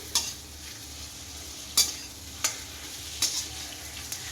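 Spicy ivy gourd curry is stirred in a pan, with a steady soft sizzle punctuated by about five sharp spatula scrapes at uneven intervals.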